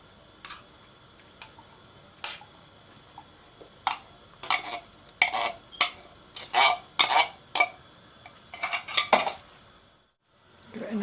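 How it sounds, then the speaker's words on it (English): A spoon stirs homemade tofu and vegetable soup with stock cubes and beans in a pot, making a run of distinct clanks and scrapes against the metal that grow denser midway, close and without talk. "Give it a nice good stir."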